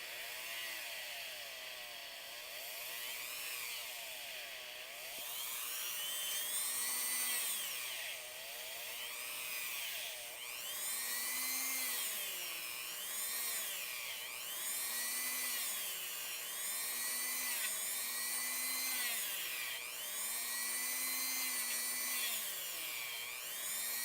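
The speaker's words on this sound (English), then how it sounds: "we're just going to sand this from the top down to free that loincloth" A power sander grinds steadily against the loincloth of a custom Skeletor figure, with a continuous high whine rising and falling in repeated passes, close and alone.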